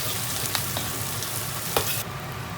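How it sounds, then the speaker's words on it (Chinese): Dried chilies, Sichuan peppercorns, ginger, garlic, onion, celery and scallion stir-frying in hot oil in a pan, with a steady close sizzle and a couple of sharp spatula scrapes. "先煸炒一下"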